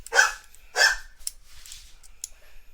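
A little dog barks twice in quick succession, sharp and close, followed by a few fainter yips and rustles.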